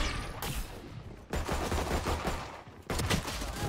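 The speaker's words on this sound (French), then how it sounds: "on a tous tiré" Valorant video game gunfire, bursts of rapid shots from several players in separate volleys with brief gaps between them, crisp and loud in the game mix.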